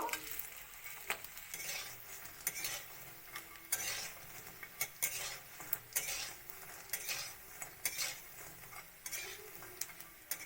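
Fish-roe fritters sizzle in hot oil in a pan with a soft, continuous hiss, broken by sharp clinks and scrapes of a utensil against the metal at an irregular pace.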